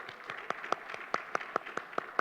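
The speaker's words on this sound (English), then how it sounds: "Round of applause for our great mayor." A small group at a press conference on street medicine in Costa Mesa claps for the mayor, a handful of distinct, fairly evenly spaced claps that sound sparse and somewhat distant.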